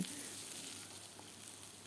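Eggplant cubes fry in oil with onion and plenty of garlic for an eggplant mash, giving a steady, close, even sizzle that holds throughout with no talking.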